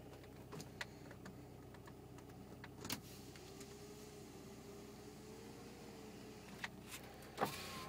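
Power windows on a 1990 BMW E30 M3 whir faintly as a window motor runs for a few seconds, bracketed by quiet clicks and thumps in an otherwise still car.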